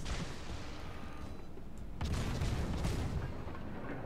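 Naval ship guns firing in World of Warships fill the clip with heavy rumbling salvos, loud and dense, with a sharper burst of booms about halfway through and no talk.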